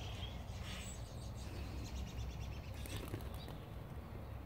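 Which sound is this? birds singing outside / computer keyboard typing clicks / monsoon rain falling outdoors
birds singing outside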